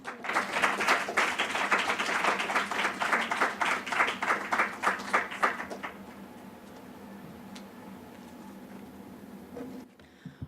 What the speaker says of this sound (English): Here is Tara, who will introduce Marilyn, then we'll clap, and then Marilyn will appear